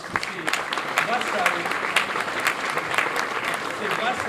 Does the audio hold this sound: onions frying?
no